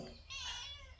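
A single close cat meow, rising and drawn out for about a second, clear and alone.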